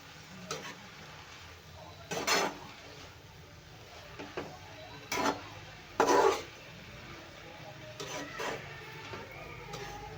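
Fenugreek leaf stir-fry with green chillies is stirred in a pan, the spatula scraping and knocking in a few short, separated bursts, close but soft over a quiet background.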